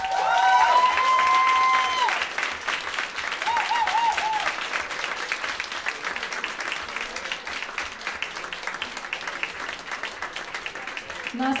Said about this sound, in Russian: Я хочу, чтобы самые теплые аплодисменты сегодня прозвучали для тебя